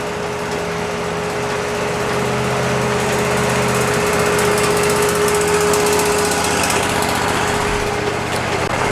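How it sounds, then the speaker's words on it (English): A Wood-Mizer LT40 sawmill makes a skim cut through driftwood. It gives a loud, steady engine drone with a rising whine and rough grinding noise as the blade runs through the log, with no talking. "Now we took a little skim cut to see if it sets still and make sure it sets there."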